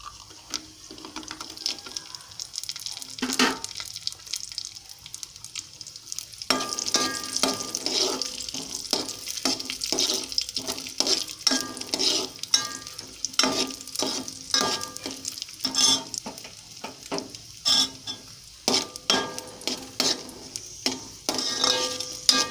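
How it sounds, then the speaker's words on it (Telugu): Cashews and raisins frying in a pan, with soft sizzling and repeated clinks and scrapes of stirring, close and steady, and a brief tap-water splash, no one speaking. "జీడిపప్పులు లైట్గా వేగుతున్నాయి కదా"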